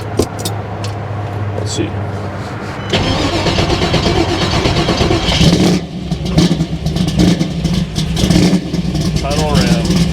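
A 1964 Chevrolet Nova gasser cranks and fires at about three seconds, then settles into a loud, rough idle set slightly high, with brief revs and blips throughout. Someone talks quietly before and during the running.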